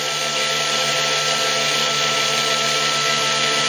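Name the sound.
electric motor running under load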